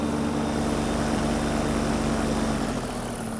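A Fly Products Xenit Cosmos 300 paramotor trike flies low over a makeshift sidewalk runway by the Rio Grande, its engine and propeller holding a loud, steady, close drone.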